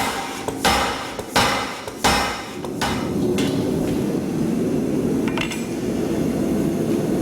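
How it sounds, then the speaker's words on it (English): A power hammer fitted with a flattener strikes hot steel in a blacksmith's shop, with several loud, heavy blows at the start giving way to a rapid, continuous pounding rhythm. "take it back and smooth it under the hammer"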